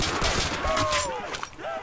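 Video game gunfire in a Call of Duty zombies custom farm map, a dense rapid burst of shots with whistling tones layered over it, loud and close, with a voice speaking partly underneath.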